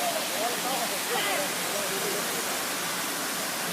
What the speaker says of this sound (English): Nice pool with a waterfall.